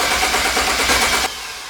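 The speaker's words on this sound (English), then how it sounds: "I'm about to crank the car" A BMW 335i with swapped-in turbos cranks over with its coil packs unplugged, a loud steady mechanical churning that cuts off abruptly near the end, leaving a lower hum.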